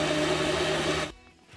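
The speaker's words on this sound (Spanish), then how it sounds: "Ahora esto que molimos le vamos a agregar la salsa que colamos y lo licuamos." A blender purées guajillo chile salsa with a loud, steady whir for about a second, then the motor cuts off abruptly.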